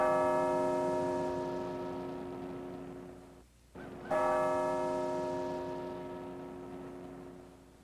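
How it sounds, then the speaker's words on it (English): A set of 35 church bells rings in a steady, sustained peal with rich overlapping tones, briefly cutting out for a moment before resuming, no voices. "listen to the bells"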